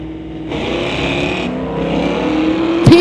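Two old-school Chevrolets, an '85 Regal and an '86 El Camino, launch side by side at a Friday night street-legal drag race; a steady loud engine roar builds over three seconds, ending in a sharp burst.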